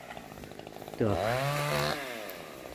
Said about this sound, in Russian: послышали звуки бензопилы